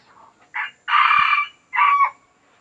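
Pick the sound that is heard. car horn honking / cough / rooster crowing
rooster crowing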